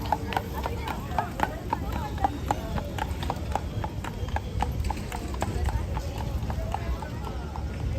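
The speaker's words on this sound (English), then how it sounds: "Clip, clop, clip, clop, clip, clop." Horse hooves clip-clop at a steady, even trot along a Central Park path in New York, moderately close, under continuous outdoor ambience and nearby people talking.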